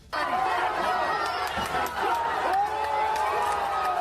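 A crowd of protesting women chants slogans while marching forward, a dense steady roar of many voices filling the air with no pauses.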